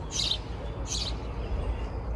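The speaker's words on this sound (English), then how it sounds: "Noisy birds." Two short bursts of high bird chirps, roughly a second apart, over a steady low outdoor rumble in a garden.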